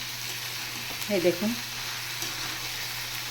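Taro leaves and soybeans fry in a pan with a soft, steady sizzle, and a short spoken phrase briefly rises over the cooking.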